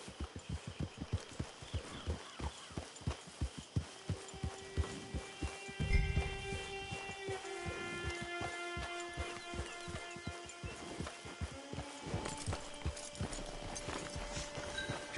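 Horse hooves clip-clop in a steady, even walking rhythm, close and distinct, with soft music tones rising in the background and no talk.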